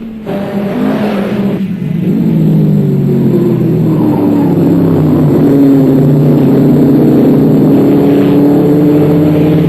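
Ford Escort Twin-Cam race cars roar at the Nürburgring during the European 6 Hours, a loud, sustained engine drone that rises steadily in pitch as a car accelerates close by, with no talking.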